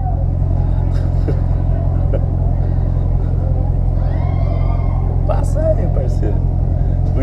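A Chevrolet Camaro engine rumbles and revs nearby on a night street, a deep steady burble rising in a couple of short throttle blips while men chat loudly over it.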